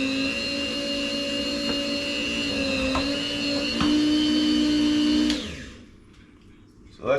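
Electric meat slicer with a press handle cutting venison into thin jerky strips, a steady loud motor whine with slight pitch shifts, then winding down and stopping near the end.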